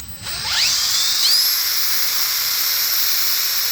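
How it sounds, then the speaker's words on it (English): A thin, high squeak rises and then holds steady above a hissy engine hum from a 2005 Ford F150 with a bad alternator. The whine is close and sustained, with no talk over it. "there's a little squeak, like a mice noise"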